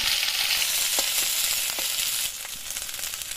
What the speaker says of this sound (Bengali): কড়াইতে দ্বিতীয়বার দিয়ে দেওয়া তেল গরম হওয়ার পরে মায়ের মধ্যে দিয়ে দিচ্ছে বেটে রাখা নারকেল, সর্ষে এবং কাঁচা লঙ্কা